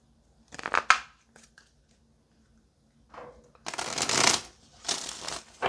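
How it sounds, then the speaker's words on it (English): Two bursts of tarot cards being riffled and shuffled, crisp rapid flutters up close, separated by a short quiet pause with faint handling noise. "just get one more good shuffle, Gemini"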